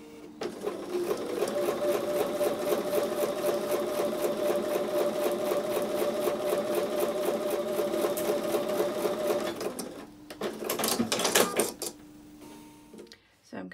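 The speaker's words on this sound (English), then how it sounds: "So we're going to take these to the sewing machine and sew with a 1/4-inch seam." A sewing machine stitches quilting fabric with a 1/4-inch seam, running steadily for about ten seconds with a fast, even mechanical rhythm, then stopping and starting again in short bursts.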